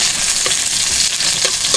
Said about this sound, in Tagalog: ito na yung bawang sibuyas saka luya mga idol. Lalagay na natin.